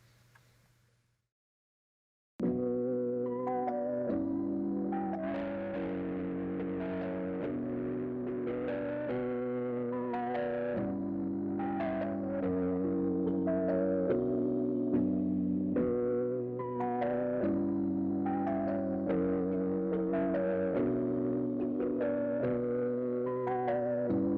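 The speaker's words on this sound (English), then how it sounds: "It's like harmonic distortion from the actual record head." Sustained musical tones played back through a tape machine plugin, thick with harmonic distortion from the record head and a gritty saturated edge, steady and continuous after a brief silence.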